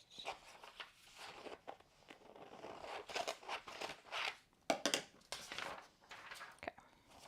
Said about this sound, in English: so let's take the vellum. And cut that first.